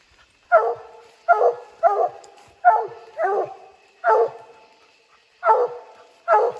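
A treeing walker coonhound bays at a treed raccoon on a rainy night, with eight loud, evenly spaced chopping barks from a moderate distance and no talk.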